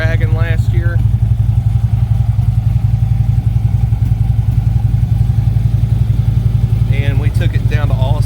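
A 2015 Harley-Davidson Electra Glide Ultra Limited idles loud and close with a steady, lumpy throb that runs the whole time, while someone talks briefly at the start and again near the end.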